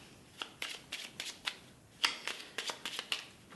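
Divination cards being shuffled and drawn, a quick series of soft papery riffles and flicks, close and quiet, with no talk over them.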